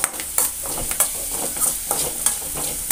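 Spring onion and dal being stirred and mixed in a pan, with regular scraping strokes repeating about twice a second over a light sizzle, close and fairly loud.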